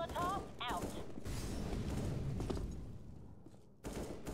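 Rapid gunfire in Counter-Strike: Global Offensive on the map Train, a burst of bursting shots under excited voices, fading briefly before another sharp shot near the end.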